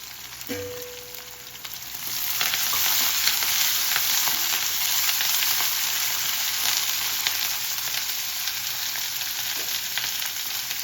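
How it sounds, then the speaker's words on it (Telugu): Garlic and curry leaves dropped into hot oil with onions and stirred, a brief clatter followed by a loud, steady close-up sizzle that fills the rest. "తర్వాత వెల్లుల్లిపాయలు, కరివేపాకు వేసేసుకొని ఒకసారి కలుపుకోవాలన్నమాట."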